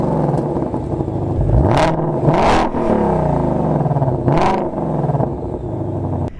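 A 760 hp 2020 Shelby GT500 with large rear exhaust tips revs hard several times, loud sharp bursts rising and falling over a rumbling idle, close by and without speech.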